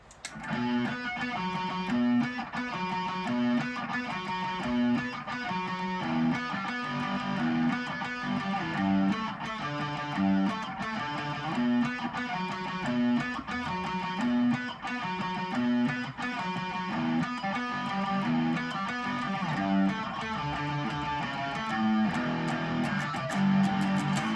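An electric guitar plays a repeating pre-chorus riff from a song with steady rhythmic picking, moderately quiet and continuous, with no voices.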